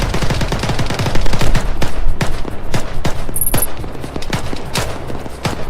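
Gunfire in the military shooter ArmA 3: loud, overlapping automatic bursts and single shots, some near and some more distant, forming a dense, continuous firefight.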